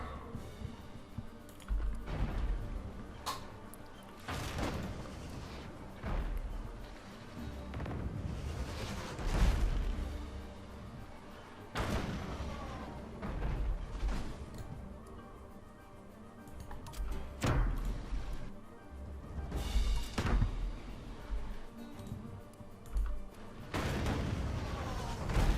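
Ship cannons fire in the naval video game Shallow Worries, sounding as a series of deep booms and crashing blasts spaced irregularly throughout, with no one talking.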